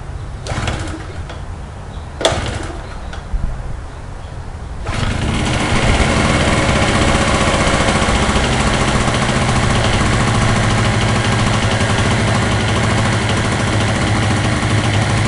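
A Chicago 2 HP generator, model 66619, is pull-started after a couple of clicks and tugs. It then settles into a steady, loud, buzzing engine run that continues without a break.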